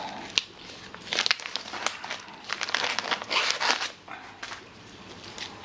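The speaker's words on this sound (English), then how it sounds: "So you can peel this plastic off." Protective plastic film peeled off a new part for a homemade milling machine, soft crinkling and crackling with a few sharp snaps, quiet and close.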